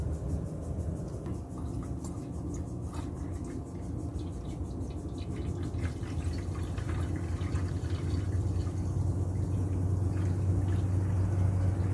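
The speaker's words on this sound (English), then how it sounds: "now I'm gonna add this into the coolant system, and I'm gonna top it off" Blue Devil radiator flush degreaser being poured into a car's coolant system, a steady low trickle and gurgle of liquid filling the reservoir, continuous and close with no talking.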